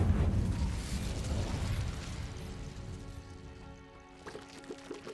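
Incendio fire spell cast in Hogwarts Legacy, a loud fiery burst that fades into a crackling, rumbling roar, followed by fainter pops and flickers near the end.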